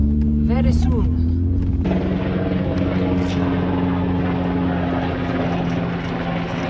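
A loud, steady engine and rotor drone roars close overhead without pause, with a brief faint voice near the start.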